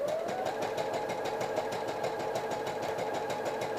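A domestic sewing machine stitching fabric for a crop top and pencil skirt, running steadily with a fast, even mechanical chatter throughout, close and moderately loud with no pauses.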